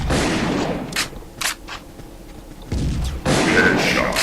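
Gunfire in the online shooter game Contra City, with several sharp shots and short bursts separated by pauses, then a longer dense stretch of firing, loud and close.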